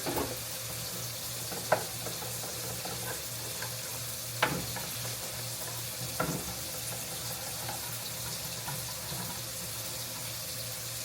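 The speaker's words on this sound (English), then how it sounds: "I'm just whisking up the powder and the liquid now." Powder and water for scalloped potatoes are whisked together in a kitchen, giving a soft, continuous swishing with a few faint taps of the whisk against the bowl.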